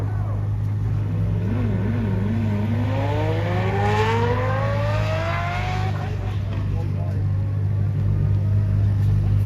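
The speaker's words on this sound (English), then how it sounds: "It's absolutely amazing V10 sounds. Lamborghini Murcielago SV, one of the best, most beautiful, aggressive cars ever built." A Lamborghini Murcielago SV's V10 engine accelerates hard on a runway during a supercar festival parade. The loud, continuous roar climbs steadily in pitch through the revs, then holds a high, sustained note.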